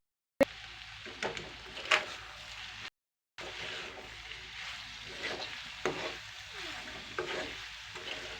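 A soybean curry stirred in a pan after a generous handful of fresh coriander goes in, giving a low sizzle with intermittent scraping and clanking strokes of a spoon and a short gap of silence partway through.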